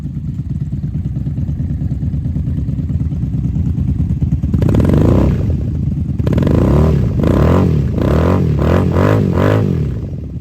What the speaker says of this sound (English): Now let's go around, get a rev on the Vance Hines.